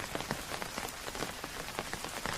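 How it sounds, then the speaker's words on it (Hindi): Steady rain falls on a roadside in the evening, a dense even patter with scattered sharper drops, heard alone with no voices. "वहीं सुभाष और विमल बाहर खड़े होकर बारिश देख रहे हैं"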